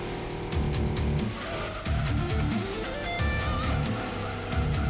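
A Nissan Pulsar races in Gran Turismo 2, its engine revving up through the gears in repeated climbing pulls, with tire squeal and other cars' engines mixed in, loud and close.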